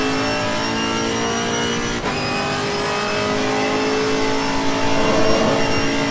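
A GT4 race car accelerating in the racing game Assetto Corsa Competizione, with a loud, steady engine drone rising in pitch as it gets up to speed and no voices.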